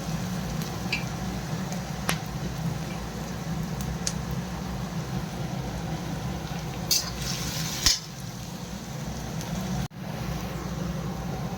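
Onions, chilli and garlic sizzle steadily in a wok, a constant low frying hiss with a few sharp clicks and scraping stirs of the spatula.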